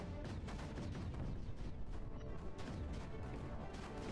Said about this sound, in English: What am I hearing a lot of explosions about?